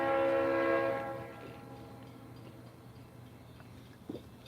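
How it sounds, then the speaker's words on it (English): A freight train horn blows one sustained, chord-like blast close by, then cuts off, leaving a low rumble of the passing train and faint ticking. "Oh, that's got a beautiful freight train horn too"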